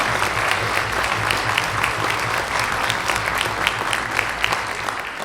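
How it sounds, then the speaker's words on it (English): An audience applauds a brass band at a concert, with steady, dense clapping throughout and no speech. "How about another round of applause for them?"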